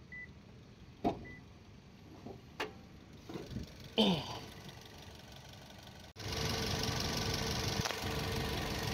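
A 2015 Toyota Yaris TRD S automatic starts up after some clicks and thumps, then its engine runs at a steady, moderately loud idle for the last few seconds.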